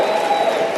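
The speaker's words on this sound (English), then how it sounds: "Give yourselves a round of applause." An audience applauds at a motivational speaking event, a dense, steady clapping wash heard briefly and fairly loud.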